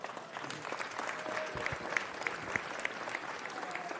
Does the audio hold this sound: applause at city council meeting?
yes